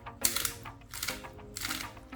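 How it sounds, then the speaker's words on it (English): Black pepper is ground by hand over fish steaks in a pan, heard as three short bursts of dry, gritty cracking in close succession, near and fairly crisp. "So now, I'll grind some black pepper over it"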